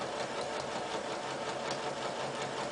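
A sewing machine runs steadily while back-tacking at the start of a seam on a neckline facing, giving a continuous close whirring hum with no pauses and no talking.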